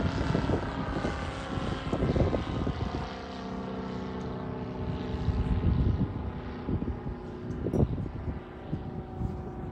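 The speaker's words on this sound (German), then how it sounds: "Das Flugzeug, das so langsam fliegen kann und so kurze Landestrecken hat wie diese Biber." A de Havilland Beaver propeller plane at a warbird meet in Oberhausen drones steadily overhead, a continuous loud, throbbing radial-engine hum that swells slightly as it passes.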